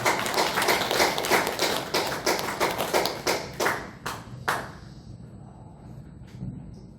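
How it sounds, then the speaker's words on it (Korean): A church congregation claps together during a Sunday worship service: dense, fast hand claps fill the first four seconds, then thin out to a few scattered claps and quiet room tone. "우리 하나님께 영광의 박수를 드립니다."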